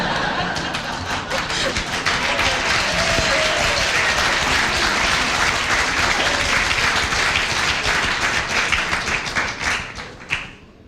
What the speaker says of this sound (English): And that's definitely something to clap for.